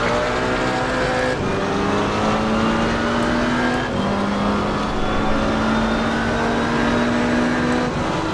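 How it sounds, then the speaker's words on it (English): A race car engine in a sim-racing game revs loud and continuous, its pitch climbing steadily through the gears with brief drops at each shift. "I'm going to have to use the engine noise as to tell me when to shift"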